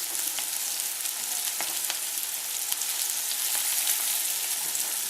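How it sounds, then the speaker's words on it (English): Onions and ginger sizzle in hot oil, a dense, even hiss that runs throughout, with occasional small pops and a few faint stirring ticks. "And I'll let the onions sweat a bit. Throw in the ginger."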